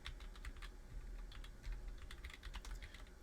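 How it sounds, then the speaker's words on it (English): Quick, light keystrokes on a computer keyboard tap in irregular clusters, close and fairly quiet, with no talking over them. "if I can type"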